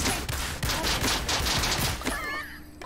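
Dense rapid turret gunfire in the Realm Royale battle royale video game, a loud continuous burst of shots for about two seconds that cuts off abruptly, leaving a brief electronic game effect.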